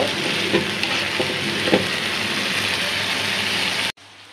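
Masala for rui fish curry sautéing in a pan, a loud, steady sizzle with a few stirring scrapes early on, ending abruptly into a low hum, with no speech.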